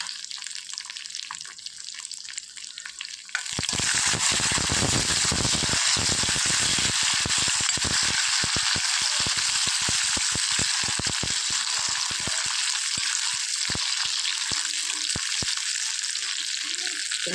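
Cashews and black raisins frying in a pan, likely in ghee, for Vishu kanji: a sudden loud, steady sizzle bursts in after a quiet start and holds close and continuous with scattered crackles to the end.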